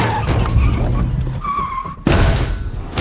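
A car in a film scene skids with squealing tires, then overturns in a sudden loud thump and crash partway through, followed by continued roaring road and engine noise.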